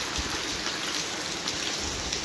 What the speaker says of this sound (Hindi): आज सुबह सुबह हमारे यहाँ बारिश हो रही है आश्रम पे।